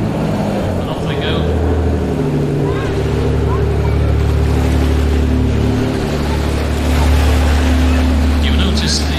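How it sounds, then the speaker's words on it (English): Powerful RNLI lifeboat engines driving twin Hamilton water jets roar steadily in a harbour, with rushing water and wind noise, loud and continuous throughout. "engines with propulsion from twin Hamilton water jets, which make her incredibly maneuverable"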